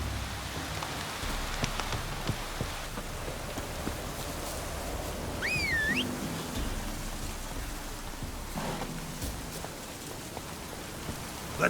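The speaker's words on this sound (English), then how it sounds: "Looks like rain." Steady rain patters down in The Witcher 3, a soft, even hiss of drops on surfaces that runs through the whole stretch, quiet and unbroken, with a faint whistle-like tone briefly in the middle.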